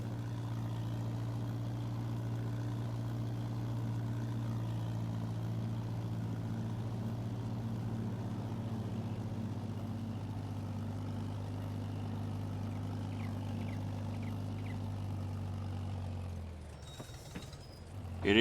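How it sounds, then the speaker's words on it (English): Tractor engine in Farming Simulator idling with a steady, even drone and low hum at moderate level, holding constant and then fading and cutting off near the end. "Take the tractor over here."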